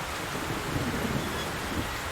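Rain pours in the video game The Stillness of the Wind, a thick, steady wash of noise with low rumbling underneath, heard alone and without a break for the whole moment.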